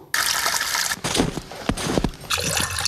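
Water pours and splashes in bursts, loud and close, with brief pauses between gushing streams, like a tap filling a basin or water sloshing.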